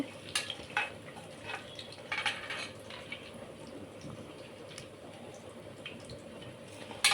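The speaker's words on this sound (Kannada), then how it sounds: "ಸ್ವಲ್ಪ ಎಣ್ಣೆಯಲ್ಲಿ ಫ್ರೈ ಆಗಲಿ" Mustard seeds and spices frying in freshly heated oil for menthya bath produce a quiet, steady crackle with scattered pops and a few light utensil taps.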